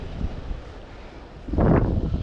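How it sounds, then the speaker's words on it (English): Gusty wind buffets the microphone on a lakeshore while bank fishing for channel catfish, steady at first and then surging into a loud, rough blast near the end. "Super windy."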